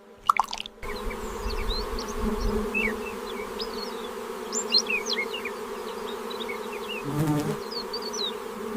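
Bees buzz steadily around an elephant eating a dripping, wax-laden honeycomb in the Serengeti, a close, continuous insect drone with scattered higher chirps and a brief low thump near the start.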